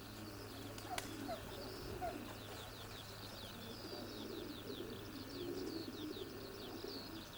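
Racing pigeons coo softly in a loft in Scotland, a faint run of repeated murmuring calls over a steady low hum, with an occasional flutter or tap.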